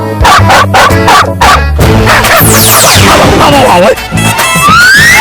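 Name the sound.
man imitating a dog barking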